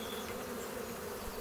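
Honeybees in an open hive during a spring inspection hum as a steady, dense, close buzz that runs unbroken and without any talk.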